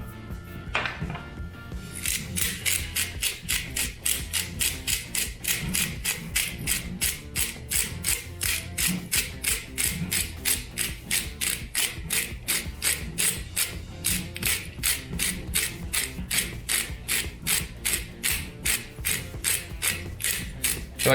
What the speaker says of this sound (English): I feel like I'm having to work this a lot more because it's at the end of the grinder